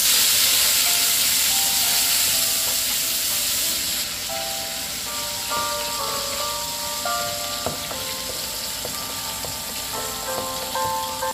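Pork belly fries in a pan with a loud, continuous sizzle and steamy hiss that eases slightly partway through, while a faint melodic tone plays underneath.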